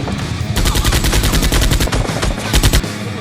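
Nerf toy guns fire in rapid bursts, a dense, loud rattle of repeated shots lasting several seconds with no talk over it.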